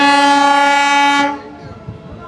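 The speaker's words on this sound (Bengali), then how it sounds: "আর সিগন্যালও হয়ে গেল, ট্রেন কিন্তু ছেড়ে দিল।" Passenger train 68096 on the new Bankura–Jayrambati line leaves Maynapur station, its horn blaring a long, loud steady blast that cuts off after about a second, leaving faint rumbling and movement noise behind.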